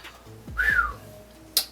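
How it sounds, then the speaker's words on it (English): A brief, faint human whistle rises and falls once, thin and breathy, followed by a small click. "A little weak whistle. I can't even whistle."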